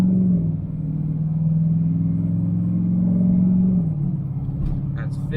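A Chevrolet LML Duramax diesel pickup with a 65mm Wold Fab turbo, in tow-haul mode on its largest tune, accelerates with a steady, loud low engine drone heard from inside the cab, its pitch settling near the end.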